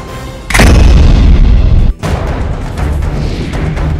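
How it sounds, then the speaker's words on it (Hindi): Gunshots are fired into the air during a street brawl in Bulandshahr, Uttar Pradesh. A loud, close blast sets off a booming roar, and a second burst follows about a second and a half later. "हाथापाई के बीच हवाई फायरिंग।"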